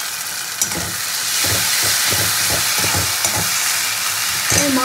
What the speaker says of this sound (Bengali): এবার এটা দিয়ে ভালো করে কষিয়ে দেবো।